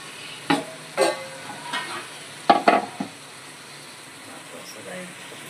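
Tomato puree cooks in masala for chicken pulav. A low, steady sizzle runs beneath several sharp clatters of a spoon stirring against the pan, spaced irregularly through the first half.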